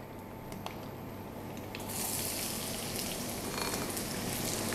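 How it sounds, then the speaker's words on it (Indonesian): Oil sizzling and crackling steadily in a hot pan, using petai (stink bean) oil while stir-frying for squid with green chillies, growing louder partway through as ingredients hit the oil. "Nah minyaknya udah panas, langsung aja kita tumis ya."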